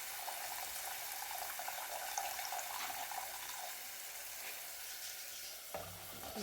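Salty brine drained from chopped raw mango is poured into a hot pan for a Kerala-style mango pickle, giving a loud, continuous hissing sizzle throughout.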